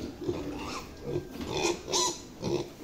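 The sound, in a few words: piglets oinking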